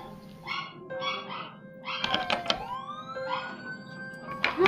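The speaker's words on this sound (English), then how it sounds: "I'm sorry for the dog barking in the background" A dog barks several times in the background under faint background sounds, short yelps in quick clusters, moderately distant.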